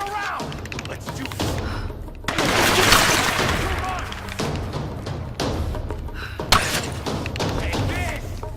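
Gunfire in the video game Tomb Raider 2013 crackles in loud bursts of shots and thuds during a firefight, with in-game characters shouting over the shooting.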